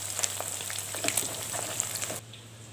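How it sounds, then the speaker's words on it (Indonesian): Hairtail fish frying in hot oil gives a steady, crackling sizzle with scattered pops, close and moderately loud, then drops abruptly to a quieter hiss near the end; a low hum runs underneath. "Oke, kita goreng terlebih dahulu."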